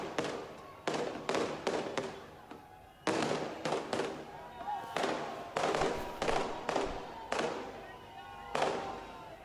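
Fireworks set off by a celebrating crowd in Uttarakhand, India, a rapid run of sharp crackling bursts in quick clusters, fairly close and repeating throughout with short gaps between volleys.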